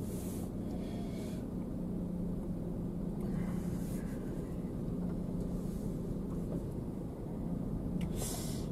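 Car pulling out of a temple parking lot in Shibukawa, Gunma, heard from inside the cabin as a steady low engine and road rumble with faint interior noises, no talking.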